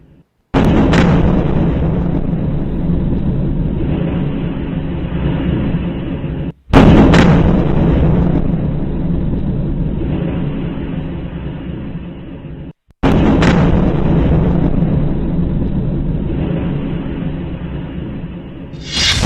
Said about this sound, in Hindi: उस तीसरी तस्वीर का धमाका भी सुनिएगा आप।